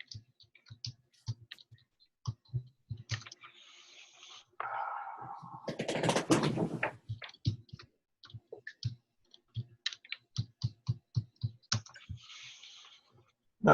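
Someone types a login on a computer keyboard: sparse, crisp key clicks in short bursts, with a brief scratchy rustle midway and a denser run of keystrokes. The sound is close and quiet, and no one speaks.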